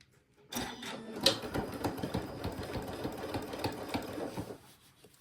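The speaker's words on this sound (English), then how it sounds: "take it back to our machine and sew that one down" A sewing machine runs steadily for about four seconds, stitching down a folded fabric seam, close and loud with no voices, starting and stopping abruptly.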